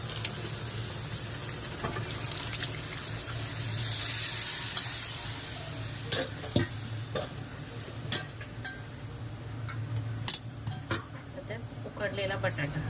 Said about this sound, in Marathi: आता आपण त्याच्यामध्ये छोले टाकून घेऊया